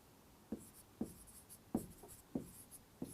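Writing strokes on a board during a lesson on diet and nutrition: five or six short, crisp taps and scrapes come at a steady, unhurried pace, close and fairly quiet, with no talking over them.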